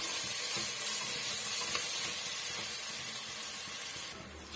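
Ginger garlic paste sautéing in a pan while cooking white chickpea biryani, giving a steady, dense hiss and sizzle that fades slightly toward the end, with no talking.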